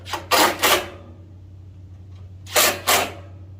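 Two pairs of sharp, scraping ratchet-like bursts sound while tightening down a heat shield on a Blackstone griddle, close and distinct, separated by a quiet pause over a low steady hum.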